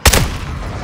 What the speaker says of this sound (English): Charles launched a cruise missile.